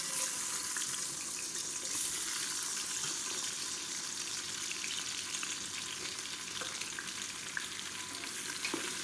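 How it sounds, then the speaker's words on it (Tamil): About 150 grams of long-sliced large onions fry in hot oil and ghee for a restaurant-style mutton biryani, giving a steady, close, crackling sizzle throughout with no talking. "பெரிய வெங்காயம் நீளமாக நறுக்குனதை சேர்த்துக்கலாம்"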